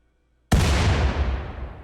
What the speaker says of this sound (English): when we're targeting with corpse explosion, after the spell goes off